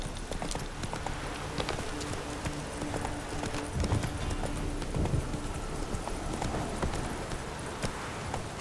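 Roach, Geralt's horse in The Witcher 3, gallops with steady, loud clip-clop hoofbeats that run the whole stretch, with a brief snort or whinny in the middle.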